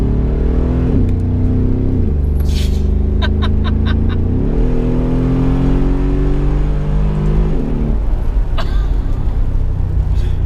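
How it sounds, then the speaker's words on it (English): A Brabus G700 Widestar's large engine drones and revs loudly, its pitch climbing and dropping through several gear changes, with faint clicks and a brief voice sound. "for a truck, it sounds amazing"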